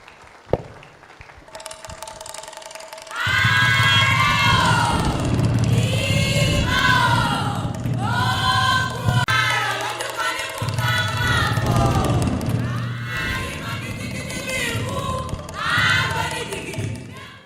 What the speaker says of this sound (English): Keep clapping till he gets here, please.